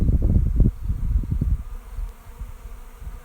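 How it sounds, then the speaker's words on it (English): Honeybees flying into a new hive make a steady buzzing hum, close and fairly loud, with rising and falling swells and no voices. "It looks like there's bees going into the hive."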